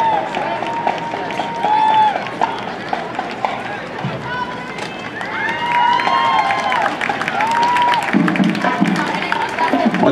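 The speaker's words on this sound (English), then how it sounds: "Nice big round of applause." A crowd applauds and cheers for a high school marching band at a golf cart parade, a continuous outdoor wash of claps and shouts under a loudspeaker voice talking.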